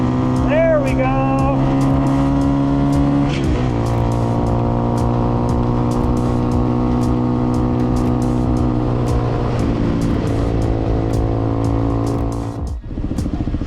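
A cheap 250cc EFI dirt bike engine revs hard while being ridden, a loud close buzzing drone climbing in pitch through gear changes, with wind buffeting throughout.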